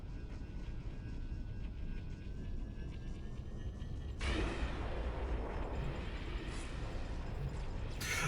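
Wraith tank cannon shots from Halo roar out as a sustained loud burst of blasting that erupts midway and keeps rumbling to the end, preceded by steady engine-like drone.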